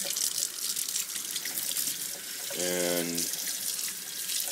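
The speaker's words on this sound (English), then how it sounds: "I'm just gonna rinse them off," Tap water runs into a kitchen sink as plastic RC parts are rinsed, a soft steady splash with a brief louder gush in the middle and a voice speaking briefly.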